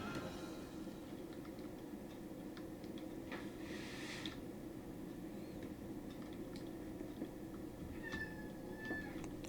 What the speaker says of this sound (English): Oh, sounds like a cat.